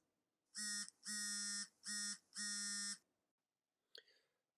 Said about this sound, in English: or a cell phone set on silent.